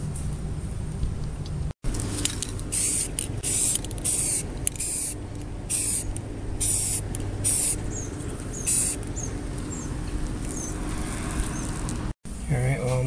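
Short hissing bursts of spray paint applied to a bolt cutter, repeated several times in close succession over a steady low background hum, close and fairly loud.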